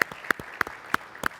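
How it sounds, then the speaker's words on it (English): A handful of people clap slowly at an entrepreneurship panel: about five sharp, separate claps at an even pace, fairly faint. "You have to clap."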